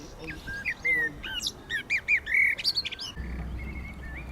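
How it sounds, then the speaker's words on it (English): A thrush sings a lively run of varied, whistled phrases over quiet outdoor background noise near a dock, fairly close. "the thrushes followed us down"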